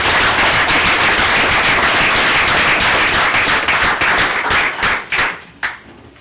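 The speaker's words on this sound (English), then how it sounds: "please give me another round of applause for a great woman" Loud, sustained applause from a crowd at a city commission meeting, dense clapping that holds steady for several seconds, then thins into a few scattered final claps and fades out.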